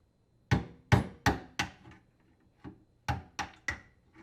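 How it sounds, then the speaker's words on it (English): Sharp hammer blows on a screwdriver strike metal, knocking out a dishwasher drain tube plug in two quick bursts, four hits then three, close and distinct against silence. "you will need to knock out the drain tube plug using a screwdriver and hammer"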